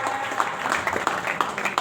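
A crowd claps loudly at a statue unveiling ceremony with a deputy chief minister in Jamalpur, Bihar, giving dense uneven bursts of applause, with some voices mixed in.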